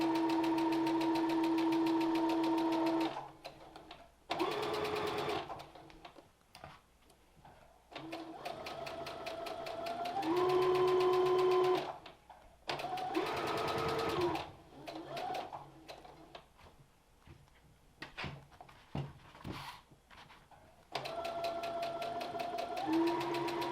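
A sewing machine stitches a curved seam on a fitted fabric mask, running in several loud, steady bursts of rapid whirring separated by short pauses and handling noises.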